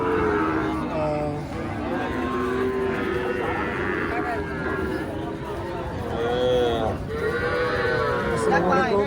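Calves and cattle low repeatedly at a busy livestock market, several drawn-out moos rising over steady crowd chatter and background bustle, fairly near and loud.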